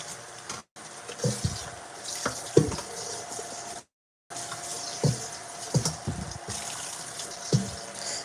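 Tap water runs and splashes while a container is washed out with soap after a fish market trip in Guyana, a steady gushing stream with brief pauses and clattering knocks near the microphone.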